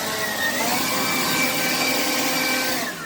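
A leaf blower with cruise control runs steadily while clearing leaves off a front porch, a loud, close, continuous whooshing roar with a high whine that holds level throughout and fades slightly at the end, with no talk.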